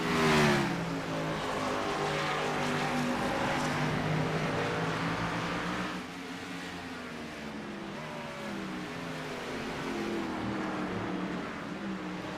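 Race cars brake hard into a right-hand corner at Mid-Ohio, engines roaring loudly and dropping in pitch as they slow, a continuous close engine howl without talk.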